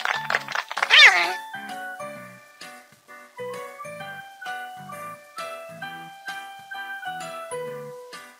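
A cartoon cat meows in a Baby TV children's shapes and puzzle game, one short, bright meow near the start, followed by light jingly tinkling game music.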